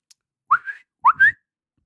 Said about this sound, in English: I give a quick whistle to get her attention.